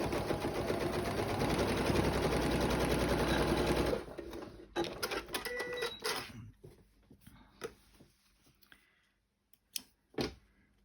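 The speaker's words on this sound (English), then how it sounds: "We're going to sew it like this, straight across, just to close up the lining seam. So a little edge stitching." A sewing machine runs steadily for about four seconds while edge stitching straight across the lining seam of a triangle pouch. After that come a few short bursts and faint handling clicks.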